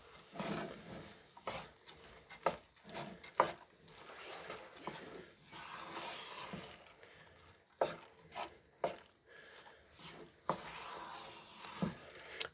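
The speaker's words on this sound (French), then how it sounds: "On mélange bien de façon à ce que ça s'imprègne bien de matière grasse." Bulgur being stirred in fat in a pan, with soft scraping and shuffling strokes in irregular bursts, quiet and close with no talk.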